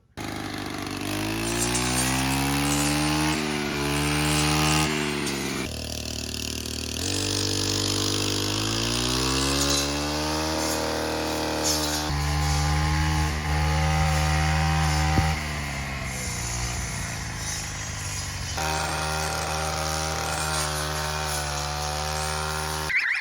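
Gas-powered string trimmer cutting a path through Alaska homestead woods, its engine droning loud and continuous for the whole stretch, pitch rising and falling as the throttle is worked.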